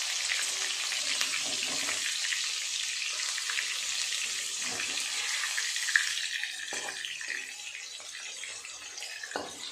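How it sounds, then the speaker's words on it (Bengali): Shrimp fritters fry in a pan of oil with a continuous bright sizzle that stays close and even, easing slightly toward the end, with an occasional faint clink and no talk. "এই চিংড়ি মাছের বড়াগুলো ভাজা হয়ে গেল"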